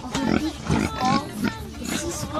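Pigs grunt in a series of short, close, rhythmic bursts on a farm while they are rubbed with body lotion after a bath, with people talking over them throughout.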